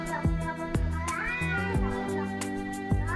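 Several cat meows with rising and falling tones, fairly close, over a steady background of musical hum and tones, with a few sharp percussive hits scattered through.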